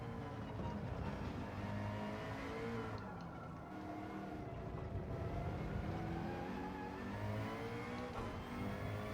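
A McLaren 650S GT3 race car in Gran Turismo 7 drones at high revs on the final lap at Lago Maggiore, a continuous loud engine roar with shifting pitch and gear changes, steady throughout.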